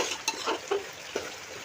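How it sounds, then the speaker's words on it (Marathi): Rice being roasted in oil with vegetables for masala rice, a soft sizzle with a few scraping stirs of a spoon against the pan, close and quiet. "तांदूळ आपण आता भाजून घेणार आहोत या भाज्यांमध्ये आणि ह्या तेलामध्ये"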